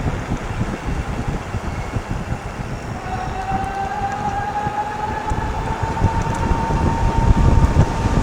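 Steady broadband wind roar buffets a microphone during an e-bike ride on a greenway trail on a breezy day, continuous and loud and swelling toward the end, with a faint whining tone drifting through the middle.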